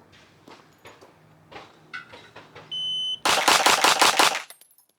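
A Springfield Echelon 4.0 pistol fired in a quick string of about five loud, sharp reports close by, preceded by an electronic timer beep and light shuffling.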